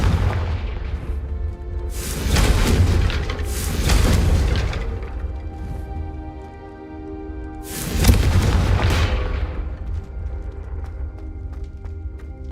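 A Confringo fire spell explodes in Hogwarts Legacy: loud, close booming blasts with rushing fiery tails, a pair near the start and another about two-thirds through, over a continuous low game rumble.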